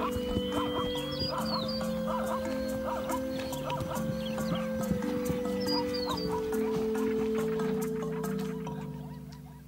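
Young zebra foals canter and call in the wild, repeated high whinnying cries over soft hoof clatter and a steady music bed, moderately close and continuous.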